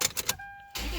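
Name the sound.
Toyota 4Runner engine starting after PCV valve replacement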